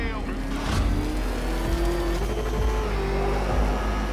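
The Batmobile races in the Batman: Arkham Knight video game, a loud engine roar that rises and falls with gear changes, joined by tire squeals and bumps, under a spoken game voice.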